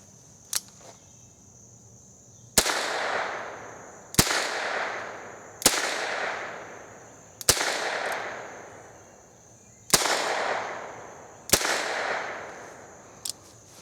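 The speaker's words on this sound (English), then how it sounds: "So I got a can down there. We're going to take a few shots here." .22 shotshell rounds fired from a revolver at a can, seven sharp cracks in all, one faint early report then six loud shots at irregular intervals of one to two seconds, each with a decaying echo tail.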